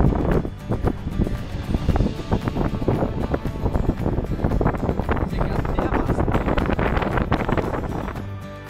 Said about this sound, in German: Es ist natürlich wieder sehr windig, sorry dafür.